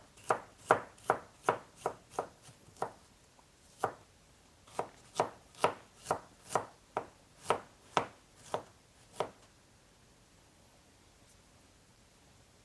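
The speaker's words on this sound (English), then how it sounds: "So this other piece we're going to actually cut into little matchsticks, about a 1/4 inch" Knife cutting a vegetable into thin matchsticks about a quarter inch thick on a cutting board, around eighteen crisp, evenly spaced chops in quick succession, close and clear, then silence, with no talk.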